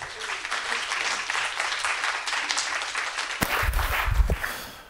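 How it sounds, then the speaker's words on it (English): An audience at a media and arts for peace event applauds, steady crowd clapping throughout that swells near the end, with a thud and brief voice sounds breaking in. "So give yourselves a round of applause"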